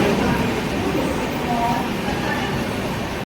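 The Konkan Kanya Express pulls into a station with a steady close rumble and rolling clatter of wheels, while a person talks over it throughout.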